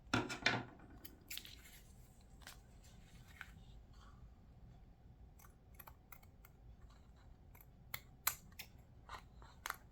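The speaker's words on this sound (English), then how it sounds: "I need my big scissors." Big scissors cut through paper, giving a run of crisp, uneven snips and rustles up close, with a louder burst at the start and scattered sharp cuts throughout, no talking.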